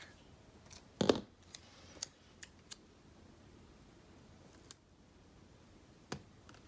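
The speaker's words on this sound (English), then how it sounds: "Really getting into cutting up half boxes." Scissors snipping through paper half boxes for planner sticker kits, a handful of sharp, close clicks and cuts spaced irregularly over a quiet background.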